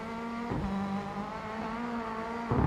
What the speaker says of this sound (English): the grunt of the car when it's under load, when you're going up hills or the car is struggling in between the shifts